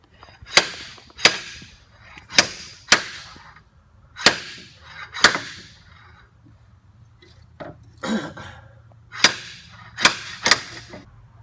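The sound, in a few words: slide hammer pulling a bushing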